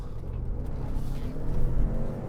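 A 2018 Ford Expedition Limited 4x4 in sport mode and rear-wheel drive, with a 10-speed automatic, at full throttle: a steady, close low engine rumble that swells slightly toward the end, with no talking.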